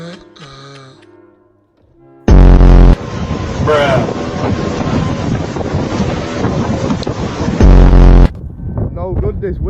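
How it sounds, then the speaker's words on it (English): Strong wind buffeting the microphone outdoors, a loud roaring rumble that slams in abruptly, holds for several seconds and then cuts off, with shouting voices before and after. "No good this wind, is it?"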